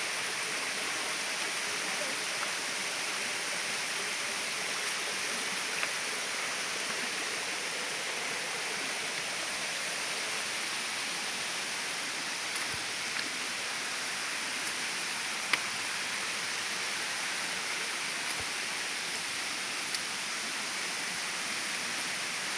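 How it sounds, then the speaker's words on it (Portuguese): Waterfall along a trail, a steady, broad rushing wash of falling water heard from a distance, fairly faint and continuous with no talking. "Olha lá a cachoeira."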